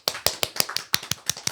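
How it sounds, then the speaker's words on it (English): A small round of applause from a few people on a podcast: about ten sharp, close hand claps at an uneven pace over a second and a half, with no talking. "So, round of applause."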